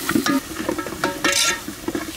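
Butter with crushed garlic and small shallots frying in a pan, a soft sizzle broken by quick scraping stirs and a few clinks.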